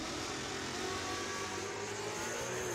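A Mercury Capri drag race car launches down the strip at an NMRA event, its engine a steady, loud, dense roar that holds for a few seconds without a break, with no voices over it.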